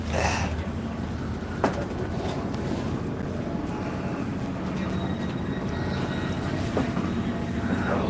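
Rumbling interior of a train terminating in Dundee, a steady low-frequency ride noise with a couple of sharp clanks, heard up close and continuous with no talk.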